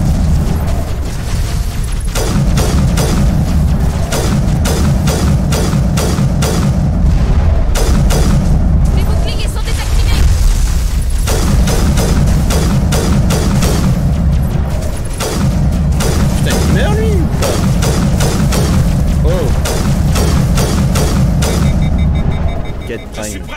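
Gunfire and explosions from a Mass Effect battle run almost nonstop, with dense rapid bursts and booming hits. Someone talks over the continuous combat noise.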